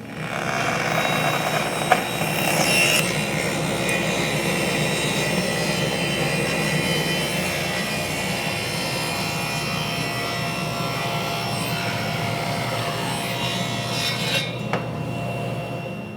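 A saw runs through wood guided by a precision taper jig, a continuous loud whirring roar that holds steady for about fourteen seconds before cutting off abruptly, with no talking.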